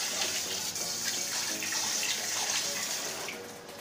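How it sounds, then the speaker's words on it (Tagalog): Tap water runs steadily into a container being rinsed in a kitchen sink before a fruit salad is transferred, a close, even splashing hiss that tapers off at the end, with no talking. "hugasan ko muna yung paglilipatan ko, ng lalagayan ko lang"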